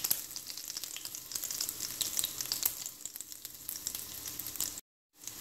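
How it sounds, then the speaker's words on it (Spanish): Mortadella and cheese sticks frying in a pan, a continuous bright crackling sizzle up close, then a brief drop to silence near the end. "Aquí agregamos al sartén y lo dejamos que se cocine"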